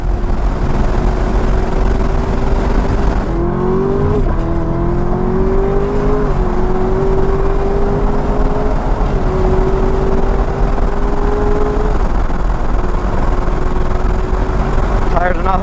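A stock Camaro ZL1 1LE race car accelerates on the Sebring track, its engine droning loud and steady with rising pitch sweeps as it shifts, running continuously throughout.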